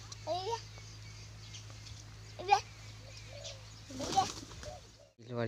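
A few scattered pigeon coos, soft and fairly close, rise over a steady low hum, with some brief voices mixed in among the calls.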